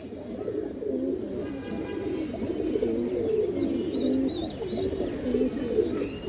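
Several pigeons coo continuously in a low, rolling chorus at close range, with a few thin chirps above and no talking.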